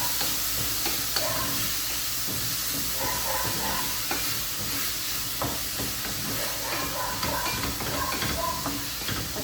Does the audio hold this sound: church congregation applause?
no